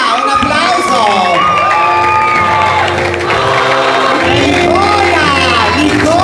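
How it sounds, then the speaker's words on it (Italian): A crowd at a Miss Trans Italia beauty pageant for contestants over 40 and 50 cheers loudly, with sustained whoops, shouts and excited voices, plus some clapping mixed into the roar. "un applauso!"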